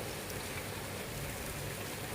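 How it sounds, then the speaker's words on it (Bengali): Heavy rain pours down outdoors as a steady, even wash of hiss and patter, heard from indoors at a moderate distance with no voices. "বাইরে খুব বৃষ্টি হচ্ছে ঝমঝম করে বৃষ্টি হচ্ছে"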